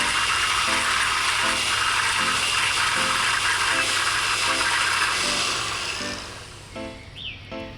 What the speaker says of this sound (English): continue blending the other unblended vegetables and fruit